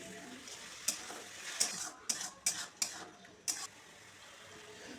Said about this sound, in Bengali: কড়াতে দিয়ে দিচ্ছি আদাটা একটু নেড়ে ছেড়ে ভেজে নেব